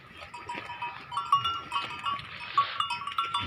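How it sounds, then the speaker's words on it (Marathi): A goat at a farm eats fodder, giving soft repeated munching and rustling noises with a few sharp high clicks, steady and close, with no speech. "हे खाते उडीदच्या चवीनं बकरी खाते आमची मीनूबाई म्हणते तिला, मीनूबाई।"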